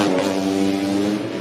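A racing motorcycle at a OnePrix expert class race in Bukit Pusar, Tasikmalaya, its engine a loud, steady, high-revving drone that holds close then eases slightly as it passes.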